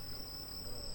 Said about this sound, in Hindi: सुनिए झिल्ली की ये है झंझन। झिंगूर।